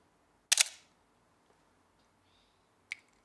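A film camera's shutter fires with a crisp mechanical click near the start, and after a near-silent pause a second, smaller click follows, both close and isolated.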